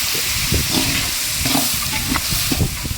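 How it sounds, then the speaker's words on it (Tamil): Onions sautéing in a pan, a loud close sizzle with repeated scraping strokes of a spoon stirring them, continuous for the whole stretch. "வெங்காயம் வந்து நல்லா வதங்கட்டும்"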